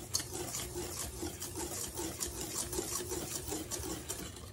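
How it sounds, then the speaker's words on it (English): A small hand whisk mixes dry cobbler ingredients in a bowl, producing a soft, rapid, rhythmic scratching and rubbing close by, steady throughout without speech. "let's sift all that together real quick with our little hand whisk here"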